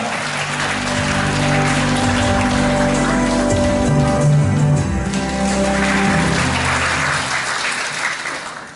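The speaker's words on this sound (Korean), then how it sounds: "박수로 맞아주시기 바랍니다" A dense, continuous roar of audience applause fills the hall as the Gumi city mayor is welcomed at a Women's Week commemorative lecture contest, loud and sustained throughout before easing slightly at the close.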